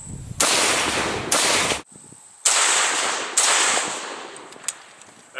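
SKS rifle firing 7.62x39 rounds at a Midwest Armor Guardian IV stand-alone Level IV ceramic plate outdoors: four sharp, loud gunshots, each followed by a decaying echo, spaced about a second apart.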